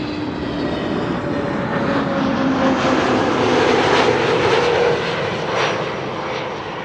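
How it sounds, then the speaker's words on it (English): Transavia airliner arriving from Malaga at Amsterdam Schiphol Airport, a loud broad jet roar that swells to a peak midway and then eases off, with no voices. "Transavia flight 6116 up next, arriving from Malaga."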